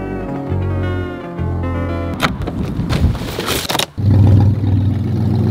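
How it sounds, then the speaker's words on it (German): A BMW E38 735i V8 with its exhaust sawn apart idles with a low, even harmonic drone, then bursts into loud, rough revving with raspy blats before settling into a deep, heavy rumble. "Das ist mein V8 Sound."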